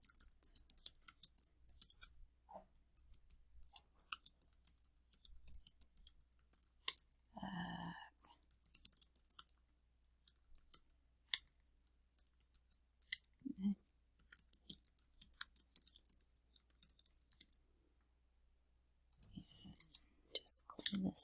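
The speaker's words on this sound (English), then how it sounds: "So I'll type part of the question here." Keystrokes on a computer keyboard as a question is entered into a lesson, heard as close, sparse, irregular clicks in short runs with pauses, plus a brief voice partway through.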